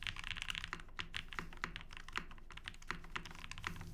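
Close, steady keystrokes on a custom Flybeck Zoku mechanical keyboard, an even run of sharp clacks with brief pauses, no one speaking.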